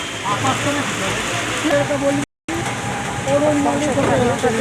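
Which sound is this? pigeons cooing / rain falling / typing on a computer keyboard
rain falling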